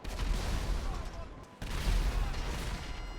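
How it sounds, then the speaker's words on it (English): Rapid gunfire in the online game GTA Online comes as dense, continuous crackling bursts with a brief drop midway, loud and close, while a player talks quietly underneath. "We just have some boys shooting?"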